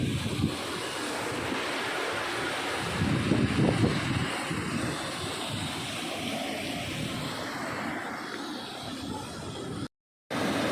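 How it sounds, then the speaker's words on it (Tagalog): Loud, steady roar of rushing floodwater fills the whole clip, broad and turbulent, with a brief dropout near the end. "Malakas ang tubig."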